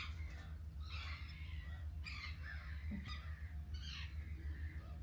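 Crows and other birds squawk and caw in bursts close to a wooden bird hide on Brownsea Island, four or five harsh calls spread over a steady low background rumble.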